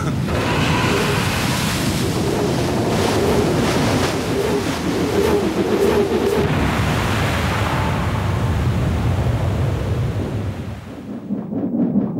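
Cartoon storm at sea with ocean waves churning and wind roaring in a loud continuous wash that surges and rolls for several seconds before easing briefly near the end.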